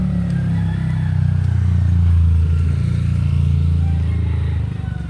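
A motorcycle passes close by on the road, its engine a loud, low droning rumble that swells in the middle and eases off toward the end.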